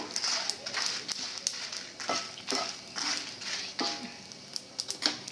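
Cumin seeds frying in a pan for kandi pappu roti pachadi, a steady close sizzle with a few sharper crackles and stirring taps, with a person speaking over it.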